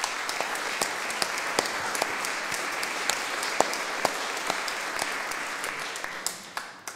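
Steady audience applause at a German talk on Jewish identity, dense clapping with sharper individual claps standing out, holding for several seconds before thinning and fading at the end.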